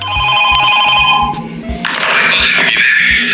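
Telephone ringing in the game FNAF 2 Reimagined: a loud, bright ringing that repeats, with a pulsing low rhythmic thud beneath it and a rougher burst partway through.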